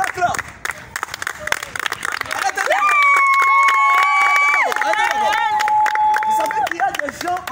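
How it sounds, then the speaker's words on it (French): A church congregation applauds and cheers at a prayer gathering: steady clapping runs throughout, with high sustained cries and ululating voices rising over it from the middle onward. "Ah, c'est bon, on acclame."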